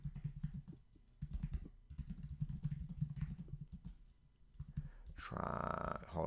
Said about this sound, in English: Hold on, I'm just typing a tweet.